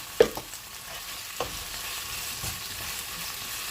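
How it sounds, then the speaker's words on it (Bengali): Onions with a pinch of salt being stirred and fried in a pan, a steady low sizzle throughout with a few soft scraping strokes of a spatula near the start, close and moderately quiet. "পেঁয়াজটা কষানোর জন্য কতক্ষণ নাড়াচাড়া করবো।"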